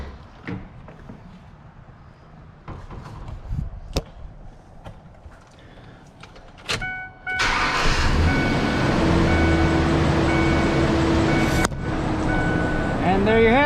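A 2003 Mazda B3000 pickup engine cranks and fires after a starter install, settling into a loud, steady idle close by, preceded by quieter clinks and handling noises.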